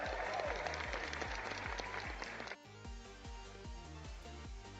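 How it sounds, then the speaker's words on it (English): An applause sound effect played on a live stream, a loud dense wash of clapping and cheering over a repeating musical beat, with the clapping dropping away midway while the rhythmic backing continues. "Jerry. Sorry, I didn't know the 9/11 applause was gonna be that loud"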